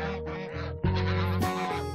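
Several geese honk loudly and close, overlapping calls in bursts as two flocks meet in front of a chicken coop.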